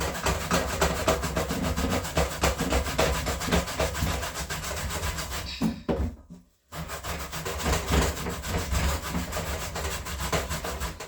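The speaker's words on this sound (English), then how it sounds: "Okay, so I go ahead and start grating." Sweet potato being grated by hand sounds as fast, continuous rasping strokes, loud and close. Near the midpoint it stops for a moment, then the scraping picks up again.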